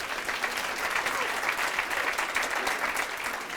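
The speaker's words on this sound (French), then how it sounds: "vous pouvez déjà les applaudir rien que pour ça." Audience applauding a student team from Strasbourg at a business school competition, a dense, steady wash of many hands clapping at close range, continuous and even throughout with no voices above it.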